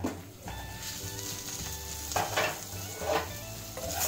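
Potato and onion curry sizzles steadily in a kadhai while a spoon stirs through it, with a few louder scraping strokes against the pan and no voices.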